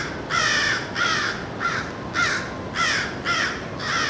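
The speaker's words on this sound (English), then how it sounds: "They're crows." Crows caw loudly in a rapid series of about seven harsh calls while mobbing a red-tailed hawk outdoors, the calls spaced roughly half a second apart.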